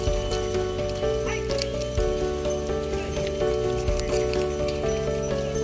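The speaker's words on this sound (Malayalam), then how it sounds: "ആശ്രമത്തിലേക്ക് പോകുന്ന കാളകളാണ്" Bullocks pulling a passenger cart toward the ashram at the Adiyogi statue, Isha, hooves clopping steadily and close, with loud sustained ringing tones running throughout.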